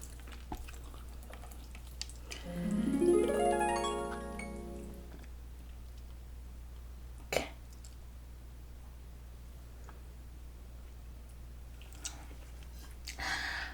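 Close, quiet chewing of salmon sushi and sashimi, with a soft squelch and a brief rising clink early on, then sparse small mouth clicks and bites against a hushed background.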